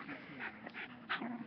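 A puppy pants and whimpers close by, faint soft breathy pants mixed with a few high thin whines, with no talk.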